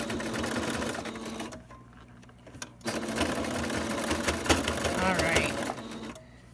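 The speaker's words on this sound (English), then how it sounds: "I'm going to do a back stitch over that elastic too" A sewing machine back-stitches over elastic on a pleated fabric face mask, whirring in fast bursts with a brief pause in the middle before stitching resumes, close and clear.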